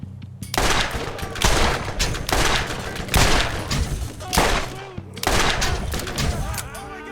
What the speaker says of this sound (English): Way too many missed shots.